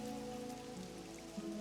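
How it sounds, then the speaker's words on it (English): Rain from Elden Ring Nightreign patters steadily on surfaces, faint and continuous. A low tonal hum sits beneath it, with no voices. "Now, heavy rains harry the region, threatening to wash away its very history."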